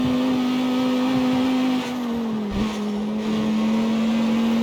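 A Lamborghini in the CarX Street racing game holds its engine high in the revs, a loud steady synthetic drone that dips briefly as if shifting, then settles back to a constant whine.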